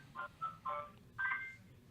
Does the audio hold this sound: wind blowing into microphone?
no